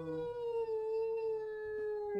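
A wolf in the video game WolfQuest gives a long, steady howl, a single sustained tone held clearly and loudly for about two seconds, rising slightly at the end.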